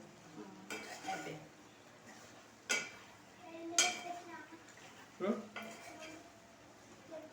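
Chicken sizzles faintly in a pan for a Sunday home meal while a utensil stirs it, giving a handful of scraping and clinking strokes at irregular intervals, with voices talking throughout.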